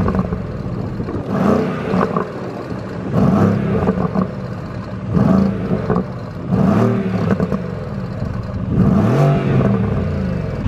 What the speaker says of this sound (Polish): posłuchajmy, jak brzmi wydech w tym samochodzie.